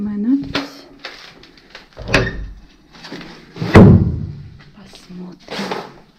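An apartment door in an abandoned flat in Pripyat is opened, giving a few thuds and knocks with a louder bang near the middle, close up and among scattered rustling.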